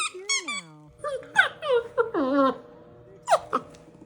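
A dog whines close by in rising and falling squeaky whimpers, with pauses between them, and a voice speaks partway through.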